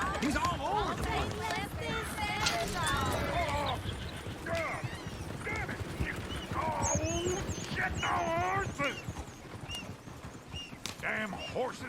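Horses in a Red Dead Redemption 2 game scene whinny and squeal with busy hoof clatter and agitated animal noises, heard under steady overlapping voices talking throughout.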